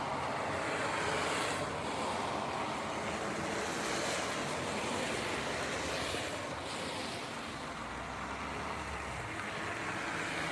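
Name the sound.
partly frozen waterfall running a little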